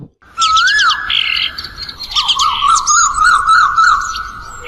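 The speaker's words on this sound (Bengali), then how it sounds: "ভিড়ের মাঝেই হঠাৎ সাইরেন বাজে পুলিশ এসে চারদিক ঘিরে ফেলে" A loud, close police siren wails and whoops in rising and falling sweeps, changing pattern partway through, with no voices; from a cartoon.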